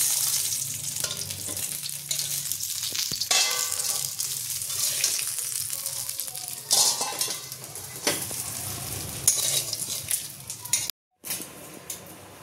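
Rui fish head frying in hot oil, a steady bright sizzle with scraping stir sounds running throughout, close and alone, with a brief dropout near the end.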